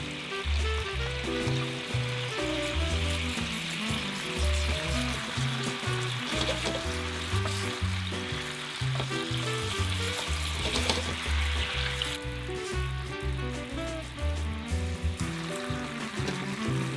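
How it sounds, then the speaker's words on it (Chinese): Teriyaki sauce simmering and reducing in a pan with pork-wrapped enoki mushroom rolls, a continuous bubbling sizzle under loud background music, steady and close throughout. "这里重点是把酱汁煮到浓缩一点"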